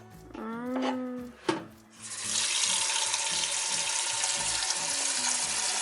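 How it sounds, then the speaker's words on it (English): Tap water pours steadily into a cooking pot while Filipino nilaga with beef is being made, a continuous loud hiss and splash that begins after a clatter and a few brief kitchen knocks. "And then just put water halfway."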